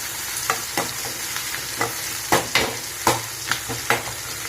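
Onions sautéing in a pan for chow chow poriyal, a steady close sizzle punctuated by a dozen sharp scraping stirs of a spatula at uneven intervals, with no voices.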